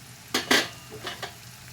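Onion, tomato and garlic masala sautéing in a pan, with bursts of sizzling as it is stirred: two strong close scrapes and sizzles early on, then two softer stirring sounds, no talking.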